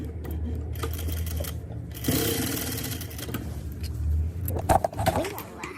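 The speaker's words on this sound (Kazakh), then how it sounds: "Оң жағынан мынаны бастырып тігіп аласыз." Sewing machine stitching a trouser zipper back into place, a steady mechanical whir running through most of the stretch with a few brief pauses and knocks near the end, close and fairly loud.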